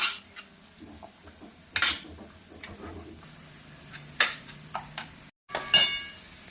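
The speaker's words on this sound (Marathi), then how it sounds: "टोमॅटो आणि कांदा शिजून होतो तोवर आपण हे मॅश करून घेऊया पूर्णपणे" Cooked vegetables for pav bhaji mashed into a paste in a metal pan, heard as sparse metallic clinks and taps with short scraping knocks between quieter stretches.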